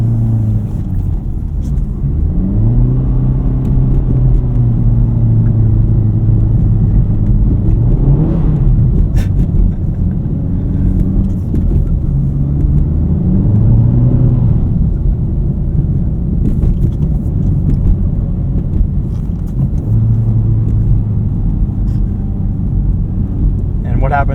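A Honda Civic Type R FL5 engine drones and revs in winter driving, its pitch climbing and dropping through several accelerations over a continuous low road rumble, heard from inside the car.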